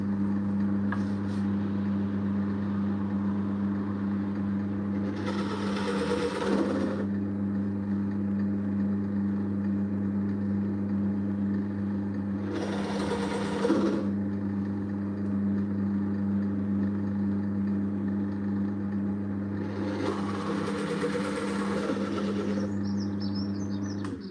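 A motor whirs steadily throughout, with three loud, rough bursts of a drill bit biting through material while making an egg holder, each lasting a second or two, spaced several seconds apart.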